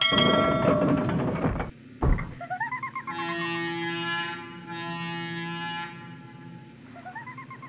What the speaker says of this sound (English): Wait till the signal is green and drive the train over the river.